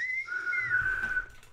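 A short whistled phrase, wavering slightly in pitch, close and moderately loud, with a faint low background rumble.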